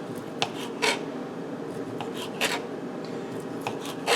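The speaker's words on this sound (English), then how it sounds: "we're just going to cut it nice little diagonal slices" A knife slices smoked beef sausage into diagonal pieces on a board, with a handful of short, crisp cutting strokes at an uneven pace over a low background hiss.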